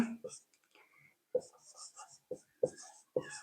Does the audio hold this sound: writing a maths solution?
yes